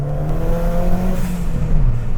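A car engine heard from inside the cabin, its intake humming and whirring steadily as revs rise slightly and then ease, with a softer exhaust note beneath.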